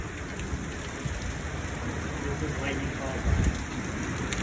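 Heavy rain pours steadily during a thunderstorm in North Dakota, a dense constant hiss with a brief low rumble near the end.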